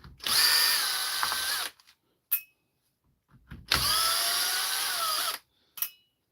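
Cordless power screwdriver backing out dirty screws during a repair, two long whirring runs of a couple of seconds each, each followed by a short clicking blip, loud and close with silence between.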